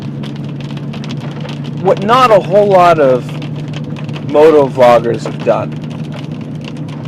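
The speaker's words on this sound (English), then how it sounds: "it's raining pretty hard right now" Heavy rain falls steadily in Colorado, a constant broadband hiss running beneath someone talking throughout.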